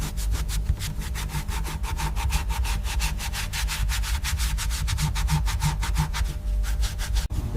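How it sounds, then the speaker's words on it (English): Sanding a wooden steering wheel from a 1955 Mercedes-Benz 300SL Gullwing, with rapid, evenly spaced back-and-forth rasping strokes, close and steady throughout, and no voices. "The steering wheel, sanded, varnished, reborn."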